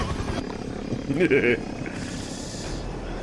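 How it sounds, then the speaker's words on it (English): A helicopter in the video game Battlefield 2042 drones steadily in the background, largely masked by a person talking over it, with a short louder burst in the middle. "Helicopter, helicopter."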